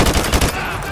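Automatic gunfire with heavy recoil in Call of Duty: Modern Warfare 2 Remastered, a loud rapid burst of several shots that fades into echoing tail within a second.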